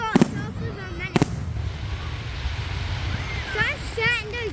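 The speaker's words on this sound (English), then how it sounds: "someone setting those fireworks off of a minute" Fireworks for Bonfire Night in Elgin, 2022 crack in two sharp bursts near the start, followed by whistling rockets rising and crackling later, with people talking over the outdoor din.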